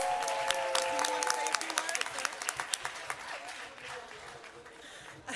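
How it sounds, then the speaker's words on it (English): Audience applause at a city of Newark literacy symposium, a steady wash of many hands clapping that starts full and slowly thins over several seconds, with a few louder individual claps near the end. "Can we give her a round of applause?"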